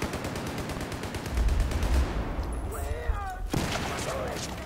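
Rapid gunfire in the video game Battlefield 4, a dense stream of shots with heavy low booms, loud and continuous, mixed with game noise and a voice.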